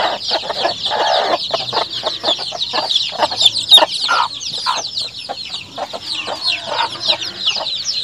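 A backyard flock of chickens and chicks clucking and peeping busily, close and loud, high chirps layered over lower clucks in a continuous chatter with no voices.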